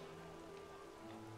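Rain falls in the city-building game Anno 1800, a faint, steady patter over a low, even background hum with no voices.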